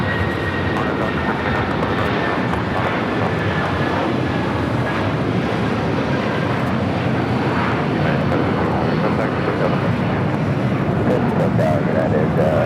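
Airliner taking off on runway 25 right at LAX, a steady broad jet engine roar with a faint high whine, constant and fairly loud, with a radio voice over it.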